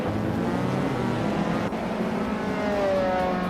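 A 1983 Porsche 911S racing engine in a video game drones loudly at sustained high revs, its pitch wavering and climbing slightly near the end, with no talk.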